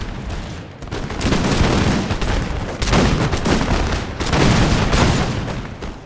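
Dense, sustained gunfire from a video game battle over a ramp and wall during the American Revolution, with volleys of musket shots crackling continuously in three louder waves and no talking.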